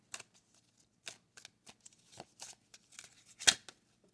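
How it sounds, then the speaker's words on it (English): Playing cards shuffled, handled and set down on a table in short, crisp bursts of flicks and slaps, with one sharper snap near the end; no talking. "I put these cards down."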